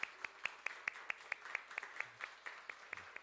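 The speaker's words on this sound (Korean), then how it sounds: "우리 두 분 위해서 박수하겠습니다." A church congregation claps in a steady rhythm during a Sunday worship service, the even claps sounding soft and distant.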